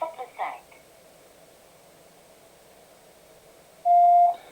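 A voicemail system's recording tone sounds once, a clean steady beep near the end lasting about half a second, after a short burst of automated voice and a quiet phone-line hiss.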